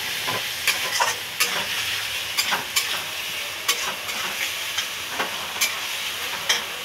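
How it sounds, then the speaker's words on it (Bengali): Potatoes fry in hot spiced oil with a steady bright sizzle while a spoon stirs them, scraping and clinking against the pan in irregular strokes, close and fairly loud. "আলুটা দেওয়ার পরে একটু নাড়াচাড়া করে নেব।"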